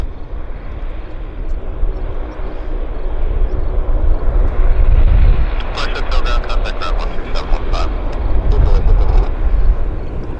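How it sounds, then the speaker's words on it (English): A KLM airliner departing Vancouver airport, its broad engine roar building and staying loud throughout, with voices talking over it. "KLM is departing back to Amsterdam"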